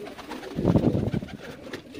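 Sialkoti pigeons give a close, soft burst of throaty cooing, a few rolling coos clustered in the middle of a short, otherwise quiet moment.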